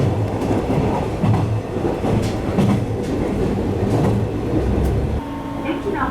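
A Kansai Main Line train runs along the Kizu River, its steady rumble and rhythmic clickety-clack heard from inside the carriage, continuous and fairly loud throughout.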